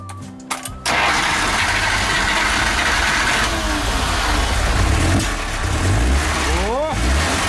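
A Żuk van engine cranks and fires up, then settles into a loud, steady running rumble with a few revs rising and falling close by; someone talks briefly near the end.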